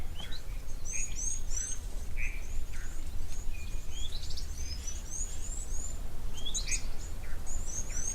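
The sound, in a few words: birds calling at a waterhole, Egyptian geese and storks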